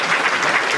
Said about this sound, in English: So let's give Nancy a round of applause.